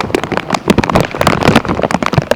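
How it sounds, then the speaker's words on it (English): Heavy rain pours down during a thunderstorm in Vancouver, WA, with loud, close, irregular spattering and splashing on hard surfaces, dense and continuous, with no talking. "The rain is dying down right now, pretty much."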